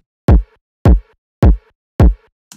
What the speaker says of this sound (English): So this is our signature kick